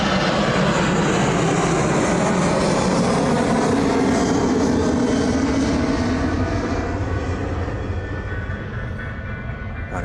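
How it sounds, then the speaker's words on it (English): An Airbus A320 jet airliner landing at East Midlands Airport makes a loud, sustained engine roar that stays close and full for the whole stretch, easing off slightly near the end. "the louder A320 making its way in"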